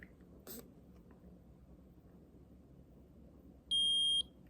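A Keto Mojo blood glucose and ketone meter gives one clear, steady electronic beep of about half a second, close and alone against faint room hiss.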